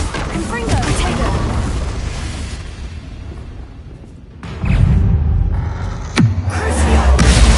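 A Confringo fire blast spell in Hogwarts Legacy bursts out in loud, booming blasts with a deep rumble, followed by a sharp whooshing streak and another heavy impact, with a voice heard along the way.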